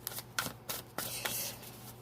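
A deck of stiff tarot cards is shuffled by hand in a quiet indoor room, giving soft, uneven riffling flutters and a few sharper slaps over about two seconds.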